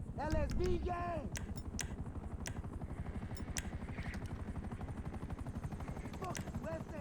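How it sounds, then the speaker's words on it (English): An enemy helicopter in GTA Online hovers with a rapid, steady rotor chop throughout, loud and near, with sharp gunshots cracking over it and voices at the start. "I'm just waiting for the helicopter to get into a better position"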